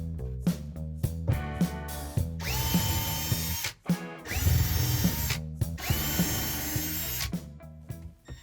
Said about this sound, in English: You definitely want to pre-drill because you don't want to risk splitting the wood behind the screws.